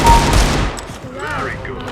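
Pistol gunfire in a video game, a loud burst of rapid shots at the start that gives way to fainter clatter and electronic tones as the action settles.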